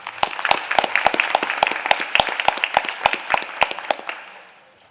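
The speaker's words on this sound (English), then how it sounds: "Let's give him a round of applause." Applause at a school board meeting for a student artist, with a dozen or so loud, sharp claps spaced in a steady rhythm from a small audience, fading out near the end.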